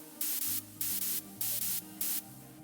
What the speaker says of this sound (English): there's a white noise, literally just white noise with an OTT and a very harsh high cut